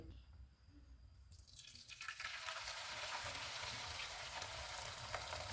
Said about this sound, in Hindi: ऑयल गर्म हो गया है, इसमें अंडे डालेंगे।